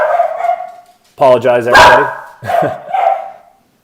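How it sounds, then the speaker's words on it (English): A pet dog barks in a home, a few sharp close barks cutting in around the middle, with a person talking before and after. "There goes my dog."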